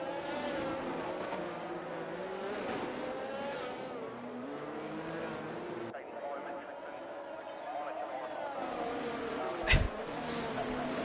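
Race cars on a circuit at the Azerbaijan Grand Prix, a steady engine drone running through the whole stretch with a sharp bang near the end, all under continuous commentary.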